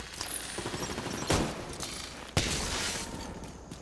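Rapid gunfire from The Division 2 crackles continuously, with two sharper, louder shots standing out amid the steady volley.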